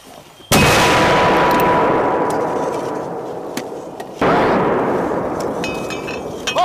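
120mm, 81mm and 60mm mortars firing during U.S. paratrooper training, heard as two loud, sharp booms a few seconds apart, each followed by a long rumbling echo that slowly fades outdoors.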